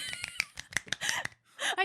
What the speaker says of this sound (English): I can clap with one hand.